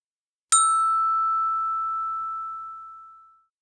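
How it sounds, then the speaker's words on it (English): One clear bell strike rings out alone in silence, a bright ding that sustains and slowly fades over about three seconds. "When the bell rang"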